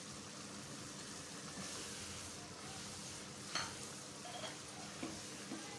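Keema mince frying with ground coriander, white pepper and turmeric in a pan, giving a continuous soft sizzle with faint scrapes and taps of stirring, close and quiet, with no talk.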